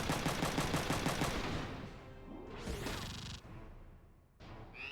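Tank cannon fire in the video game Front Mission 3: a rapid burst of repeated shots fades into a rushing whoosh and a ringing, swept impact, followed by another brief sharp effect at the end, moderately loud with no speech.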